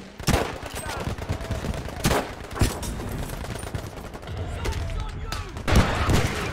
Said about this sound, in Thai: โอ้ยระเบิดเต็มไปหมดเลย